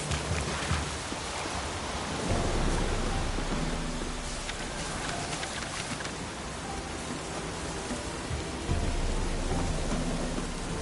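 Steady rain pours in The Witcher 3, a dense, even hiss of drops on surfaces with a low rumbling bed that swells slightly near the end, continuous and fairly close with no voices.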